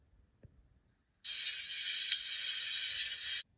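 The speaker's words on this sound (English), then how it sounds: "A grasshopper goes." A grasshopper gives a dry, raspy, continuous buzzing chirr lasting about two seconds. It starts abruptly after a faint tap and near silence, then cuts off sharply.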